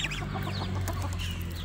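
A young naked neck frizzle chick with a limp on one leg clucks and peeps indoors, several short chirping calls close by over a steady background hum, with no talking.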